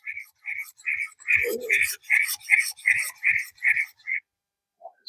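A camp knife blade being sharpened with repeated rhythmic rasping strokes, about a dozen evenly spaced passes, close and clear, with a brief voice partway through.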